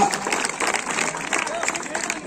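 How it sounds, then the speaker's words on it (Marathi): Crowd applause and cheering at a Khandoba Yatra village wrestling bout in Marapur, Mangalvedha, a steady wash of clapping sustained throughout, loud and dense, with voices mixed in. "त्यासाठी जोरदार टाळ्या करा. टाळ्या वाजवायला कंजूसी करू नका."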